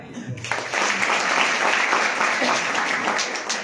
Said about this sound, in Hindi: जो बैठे उनके लिए तालियां